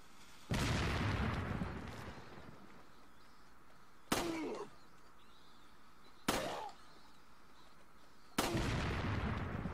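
Four sharp, loud gunshots ring out one at a time at irregular intervals, each followed by a short decaying echo, from the Wii version of the Resident Evil 4 video game.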